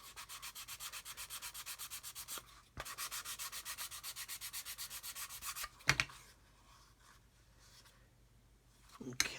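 Steady back-and-forth sanding strokes on a flat surface, a rhythmic scratchy rasp repeating quickly, pausing briefly, then resuming before fading to quiet with a few handling bumps.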